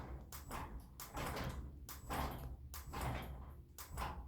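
A garage door driven by a DC Blue Advanced motor runs with a steady mechanical rumble and rattling, broken by a few louder clunks and pauses as it closes and starts to reopen, fairly faint and without talk.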